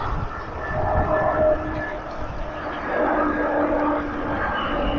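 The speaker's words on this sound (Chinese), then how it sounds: "就是这个飞机声比较讨厌了" An airplane flies overhead near a village on the outskirts of Shanghai, heard as a broad, steady roar that swells and eases slightly, with no voices over it.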